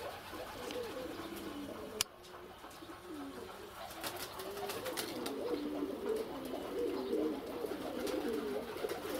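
Flock of village pigeons, mostly males, cooing steadily in overlapping low rolling calls, with a sharp click early on and brief rustles, fairly close and unaccompanied by speech.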